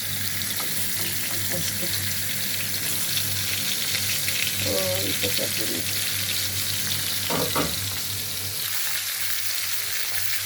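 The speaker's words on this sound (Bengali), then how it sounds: "মাছগুলো ভাজা হয়ে গেছে" Pieces of katla and tilapia fish fry in oil in a pan with a steady, loud, continuous sizzle, with a few brief clinks and a voice speaking briefly.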